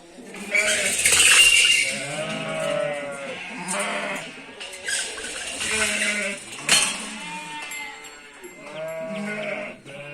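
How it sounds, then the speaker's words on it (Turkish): Sheep bleat loudly and repeatedly at a village farm, several overlapping calls close by, some long and wavering, with short pauses between bursts. "Koyunlar da nasıl bağırıyor ya."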